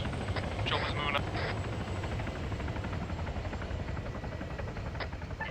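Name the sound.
helicopter flying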